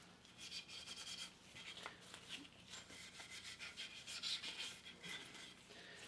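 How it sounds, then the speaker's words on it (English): A maroon Scotch-Brite pad scuffs lightly over the wooden knob and tote of a hand plane under restoration, giving a steady close rasping rub in quick repeated strokes with no talking. "I'm just gonna lightly just scuff sand this with maroon Scotch-Brite pad"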